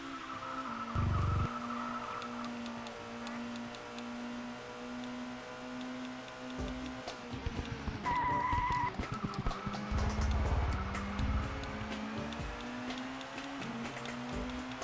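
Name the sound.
race cars skidding on track, from video game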